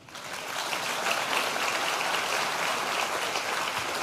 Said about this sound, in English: we have a virtual round of applause